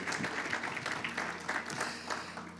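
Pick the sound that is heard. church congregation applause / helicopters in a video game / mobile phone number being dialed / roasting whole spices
church congregation applause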